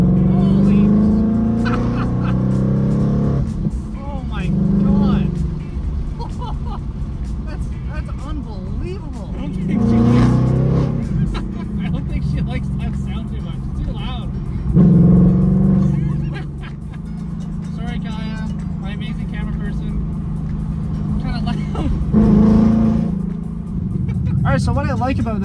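A Ford Mustang GT V8 muscle car accelerating with its windows down, its deep engine note rising and falling through several repeated pulls, loud and close inside the cabin while someone talks over it.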